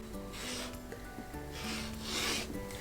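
A rotary cutter slices quilting fabric along a diagonal against a ruler, making soft rasping strokes in a few separate passes over a low steady hum.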